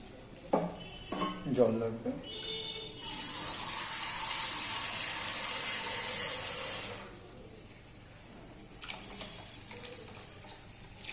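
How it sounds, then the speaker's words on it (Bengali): Water poured into a pot of dal during home cooking, a steady gushing stream running for a few seconds between brief bursts of speech and light pot clatter. "জলটা একটু বেশি করে দিলাম"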